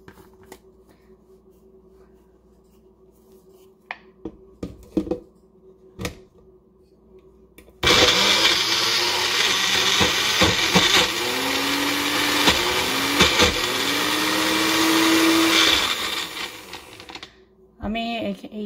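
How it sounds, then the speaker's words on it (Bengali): A 4-blade blender grinds broccoli and shrimp, starting abruptly as a loud, steady whir with rising and falling pitch for about eight seconds before stopping; faint clicks and handling come before it. "আর আমি এখানে 4 ব্লেডের ব্লেন্ডারটা ইউজ করব"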